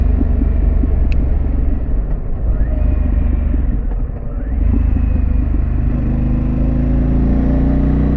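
A Harley-Davidson Pan America motorcycle fitted with a Vance exhaust cruises along a New Jersey road, a loud, continuous low rumble that dips briefly and then steadies as the engine pulls on.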